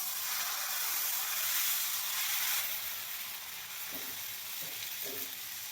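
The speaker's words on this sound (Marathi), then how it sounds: "तवा गरम झालेला आहे, त्याच्यात आपण बॅटर टाकूया याच्यावरती डोशाचं." Dosa batter sizzles on a hot oiled tawa with a steady, bright hiss that eases slightly partway through. A few soft scraping touches come near the end, and there is no talk.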